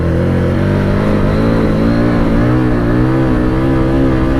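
Harley-Davidson Street Rod 750 motorcycle revving hard during a wheelie, a loud, close, sustained engine roar with pitch rising and wavering as the throttle is worked.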